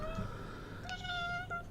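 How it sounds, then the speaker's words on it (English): A house cat meows indoors twice, a short call and then a longer one, soft and close over a quiet room hum. "The cat's come to say hi."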